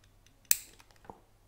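A TT-33 pistol from Radom, its hammer drawn back onto the safety notch, gives one sharp metallic click, close and clear, followed by a softer second tick in a quiet room.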